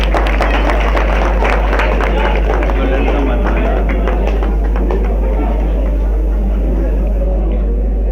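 An audience claps at the prize distribution of a high-flying pigeon tournament. Scattered, loud claps run under a speaking voice, thin out toward the end and are largely buried by the talk.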